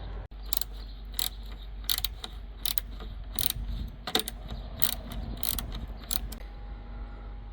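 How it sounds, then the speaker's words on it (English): A hand ratchet turns out the 10mm tail light bolts on a Dodge Grand Caravan, giving a run of quick clicking bursts with short pauses between them. The sound is close and fairly loud, with no talking. "you want to remove two 10mm bolts"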